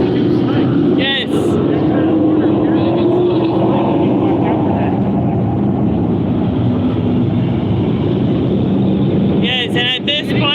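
A super truck runs practice laps on the slick track at Vado Speedway Park. A loud, steady engine roar drones close by for the whole stretch and swells briefly near the start and end.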